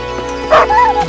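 A dog in the medieval video game Kingdom Come: Deliverance gives a loud, close bark followed by a whining yelp, a short burst over the game's ambient sound.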